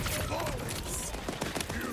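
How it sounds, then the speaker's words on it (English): Airstrike in Borderlands 4 on Ultimate Vault Hunter Mode, dense rolling bursts of explosions and gunfire filling a continuous loud barrage, with game effects layered throughout. "See if I can get one more airstrike."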